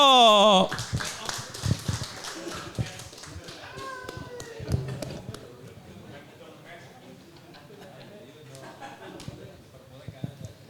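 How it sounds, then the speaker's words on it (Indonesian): A small audience claps for a show host, a brief burst of taps and hand claps that thins into scattered claps, with voices and children's chatter underneath. "Boleh tepuk tangan buat Yuno."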